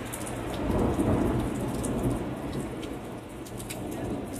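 A thunderstorm rolls through with steady heavy rain pattering on surfaces and a deep rumble of thunder swelling and fading early on, continuous and close, with no talking.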